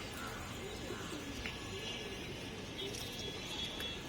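Pigeons coo softly in a loft, faint and low under a steady broadband background hiss, with occasional brief calls rising above it.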